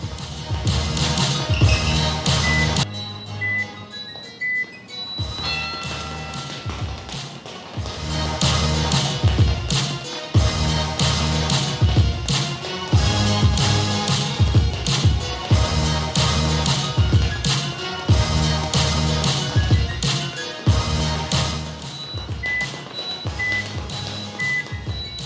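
Rapid foot fire drill on a jump rope, quick steady tapping of rope and feet in a continuous rhythm, heard under backing music with a short pause near the start.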